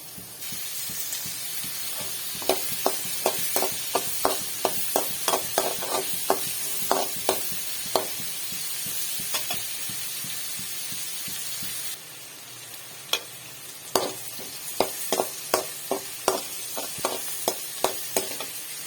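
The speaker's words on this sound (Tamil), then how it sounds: "ஒரு கொத்து கருவேப்பிலையும் கூடவே சேர்த்து இதை நல்லா வதக்கிக்கலாம்" Curry leaves and onions sauté in a pan for a dried anchovy thokku, a soft steady sizzle broken by repeated sharp spatula taps in rhythmic bursts.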